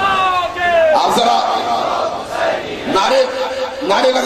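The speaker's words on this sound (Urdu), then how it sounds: "نعرے لگاتے رہیں گے،" A large crowd chants slogans in loud, rising unison shouts at a religious address in Bhakkar, with voices swelling and falling in repeated bursts that fill the whole stretch.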